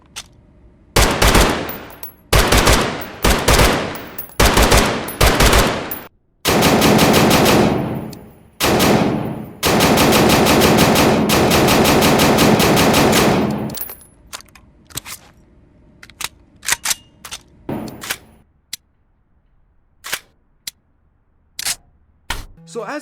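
An M4 rifle in the VR shooter Geronimo fires loud, sharp bursts of automatic gunfire separated by brief pauses, including two long sustained strings, then tapers off into scattered single shots and clicks.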